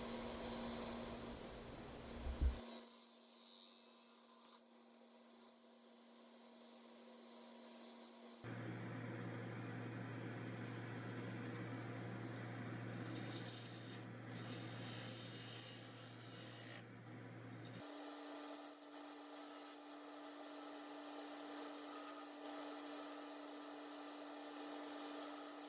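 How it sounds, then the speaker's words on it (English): Steady wooden rasping and scraping from a skew chisel cutting a spinning workpiece on a woodturning lathe, with the lathe's motor hum underneath shifting pitch as speed changes, continuous and close. "And the skew chisel, just trying to flatten the mortise and get the dovetail in there correctly."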